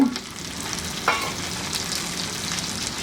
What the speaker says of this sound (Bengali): সামান্য একটু লবণ দিয়ে এইটাকে একটু ভেজে নিব যাতে টমেটোটা নরম হয়ে যায়